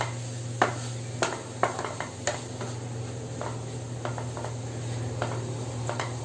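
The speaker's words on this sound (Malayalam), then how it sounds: "സവാളയും തക്കാളിയൊക്കെ കൂടി ഇതിൻ്റെ കൂടെ നന്നായിട്ട് ചേർന്ന് നന്നായിട്ട് ഇളക്കി കൊടുക്കുക" A spoon stirs egg thoran with onion and tomato in a pan, giving soft sizzling under a steady kitchen hum and a handful of sharp scrapes and clinks against the pan.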